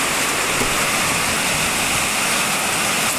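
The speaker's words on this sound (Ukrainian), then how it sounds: "у нас такий дощ іде" A dense, unbroken roar of heavy rain pours down steadily and loudly throughout, with no voices.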